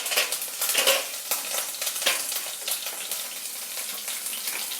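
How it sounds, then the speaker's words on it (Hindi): Mustard seeds, nigella, chopped chilies and a piece of ginger are lightly roasted in a pan, giving a dense crackling sizzle with scattered sharp pops and stirring, close and steady, no talk. "इन सबको हल्का सा भून लेंगे"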